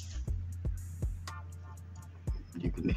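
Callaway Rogue ST Pro iron shots on a golf course, several dull, close thuds of club meeting ball spaced across a few seconds, with faint low hum between strikes and no talking.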